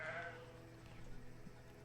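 A sheep bleats faintly in the post-apocalyptic survival game Surviving The Aftermath, one short cry over a quiet, busy background of game ambience.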